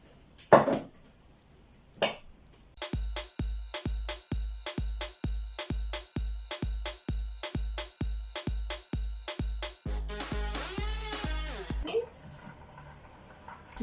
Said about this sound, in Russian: Теперь мы это опять-таки моем.